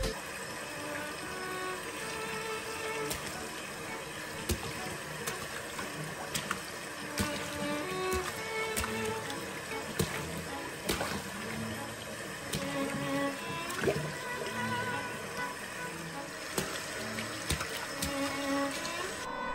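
A child splashing and playing in water, heard as a steady wash of sloshing and churning with sharp intermittent slaps and drips, fairly loud and close throughout, with no voices.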